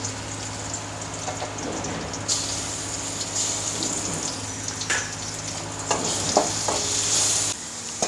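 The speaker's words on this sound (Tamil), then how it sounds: "இப்போ இந்த இஞ்சி பூண்டு பேஸ்ட் இதில் ஆட் பண்ணிக்கோங்க." Ginger garlic paste added to frying onion and cumin in oil crackles and sizzles steadily in a pan, with repeated scraping stirs and sharp spatters throughout.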